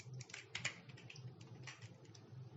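Typing a terminal command on a computer keyboard, a soft, close run of uneven key taps and clacks lasting a couple of seconds, quiet and without voices.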